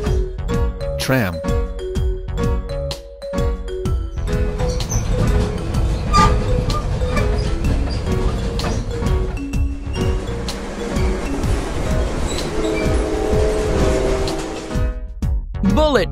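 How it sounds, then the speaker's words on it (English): Toy tram sound effect for a bell-equipped rail vehicle: a continuous rolling rail rumble with repeated ringing bell dings over it, loud and close, with a brief spoken word at the start. "Tram."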